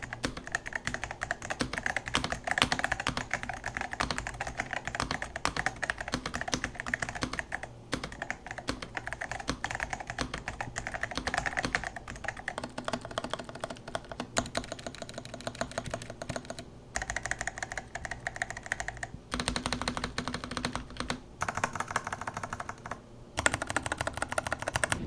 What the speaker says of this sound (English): I'll give you guys a sound test so that you can hear what the included switches sound like, as well as the overall sound of the keyboard.